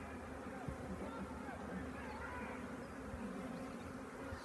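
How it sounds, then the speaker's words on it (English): A honeybee swarm outdoors gives a steady, dense buzzing drone that holds at a constant level throughout, with faint voices and background noise mixed in. "Queen is probably still in the swarm because they're going back to the swarm instead of the other way."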